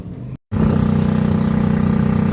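A rebuilt 5.7 engine in a truck runs with a steady, throbbing idle, close and loud, starting up abruptly after a brief silence and holding an even pulsing rumble.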